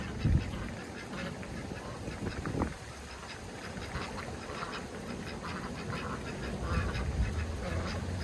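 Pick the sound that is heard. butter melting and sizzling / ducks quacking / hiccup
ducks quacking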